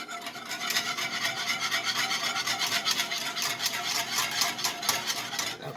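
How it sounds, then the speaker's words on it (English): A whisk scraping steadily through cheese sauce for macaroni and cheese in a pot, a continuous close raspy rubbing with a quick repeating stirring rhythm, no speech. "Now I'm just going to whisk it."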